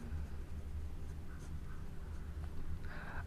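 Pen or chalk writing out maths working in a class: a close, continuous scratching and stroking runs for a few seconds against a low steady hum, with a brief brighter squeak of the tip near the end.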